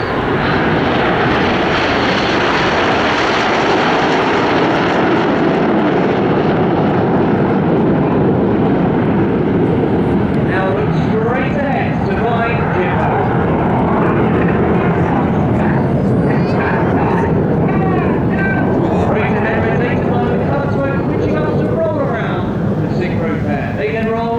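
Red Arrows display jets roar overhead at the Bournemouth airshow, a loud continuous broadband jet rumble swelling and slowly fading as the formation passes, with a commentator speaking over the engine noise.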